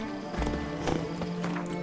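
Hooves of the horse Roach from the Witcher 3 video game, a quick run of clip-clopping steps over a low ambient backdrop, fairly quiet and brief with no talking.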